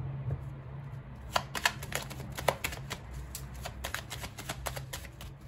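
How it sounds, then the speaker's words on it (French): Tarot cards shuffled by hand in a quiet room, a run of soft papery riffles and quick flicks repeating at an uneven rhythm, close and fairly faint, with no talking. "je commençais seulement à mélanger le jeu"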